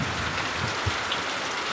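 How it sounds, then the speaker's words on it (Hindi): Heavy rain pours down steadily, a dense constant hiss of drops drumming on surfaces close by with no voices. "प्रबल वर्षा"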